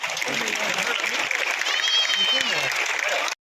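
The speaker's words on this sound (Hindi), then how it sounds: "आप जोरदार तालियों से स्वागत करेंगे।" Loud, steady applause from a large crowd welcoming a guest at a state health-workers' union convention in Chhattisgarh, a continuous roar of clapping that holds for over three seconds and then cuts off abruptly.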